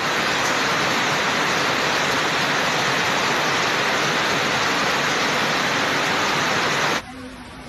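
Floodwater surging through streets in Trinidad during heavy rain and gusty winds, a loud, steady broadband roar that fills the scene before cutting off abruptly near the end.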